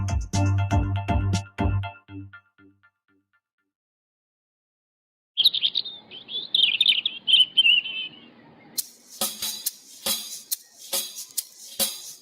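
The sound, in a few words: birds chirping and singing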